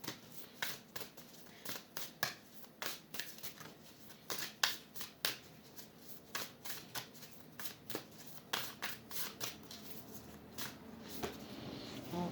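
A deck of tarot cards is shuffled during a love reading, a run of crisp riffling bursts that keeps a quick, uneven rhythm, close and moderately loud with no voice over it.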